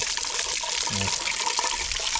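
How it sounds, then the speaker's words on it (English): Clean water flushes through an Olds Rocket 350 engine block during cleaning, a continuous splashing, running-water sound at close range with a brief low gurgle midway. "So I'm going to keep running clean water through this until it starts running out clear."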